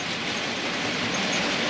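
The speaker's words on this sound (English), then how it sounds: "I've got a class 800 with all its carriage lights on and running lights" A model Class 800 train runs steadily on a layout track alongside other model trains, giving a continuous close rolling rumble and wheel hiss with no talk.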